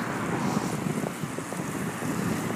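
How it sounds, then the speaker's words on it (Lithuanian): Strong wind buffets a microphone outdoors in a town near a wedding hall, a steady loud rumbling roar with gusty swells throughout and no voices. "O vėjas, jūs neįsivaizduojat, neišpasakytas vėjas"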